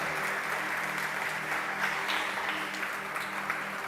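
A church congregation applauds during a Sunday morning service, a dense, steady wash of many hands clapping at an even loudness throughout, with a low murmur of voices underneath.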